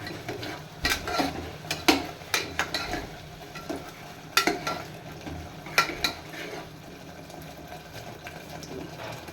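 Onions sauté in oil in a pan, a faint, steady sizzle with intermittent sharper scrapes and clinks of stirring, close but quiet, with no talking.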